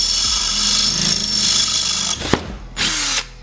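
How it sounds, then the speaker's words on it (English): A power drill whirs steadily for about two seconds, drilling rivet holes during car battery wiring work on a Mitsubishi Evo X, then stops; a sharp knock follows, and a second brief burst of drilling comes near the end. "I'm about to drill the holes in this so we can rivet those onto that."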